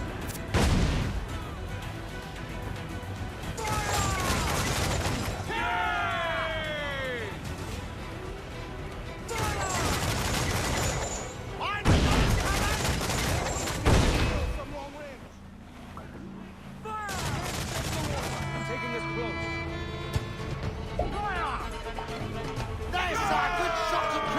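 Ship cannons fire during a stormy naval battle in Assassin's Creed 4, a few heavy booming volleys separated by gaps, with music, creaking ship sounds and shouting voices mixed in.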